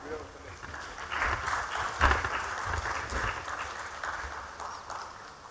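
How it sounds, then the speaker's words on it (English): A conference audience at a technology session applauds after a token of appreciation is handed over, a moderate, fairly distant patter of clapping with some low thumps, swelling briefly near the middle. "I think we can clap."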